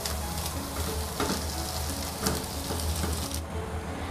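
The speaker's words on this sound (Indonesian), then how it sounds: "Panaskan sedikit minyak, tumis bawang putih dan bawang merah." Steady, loud oil sizzle of garlic and shallots sautéing in a pan, continuous crackling with a few brief stirring scrapes, close up and without speech.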